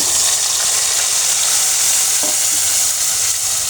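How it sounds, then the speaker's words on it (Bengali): Ginger, garlic and onion paste sizzles loudly and steadily in hot oil for a beef-head and split-chickpea curry, a dense continuous frying hiss with a faint stir-like tap midway and no voices. "আমি এটা দিয়ে দিচ্ছি তেলের মধ্যে"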